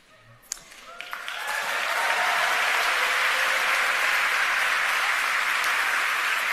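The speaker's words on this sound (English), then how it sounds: "so everybody began clapping" An audience bursts into applause during a speech. Scattered claps swell within two seconds into loud, sustained, dense clapping that holds steady.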